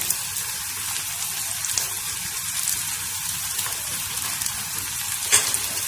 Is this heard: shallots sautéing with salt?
yes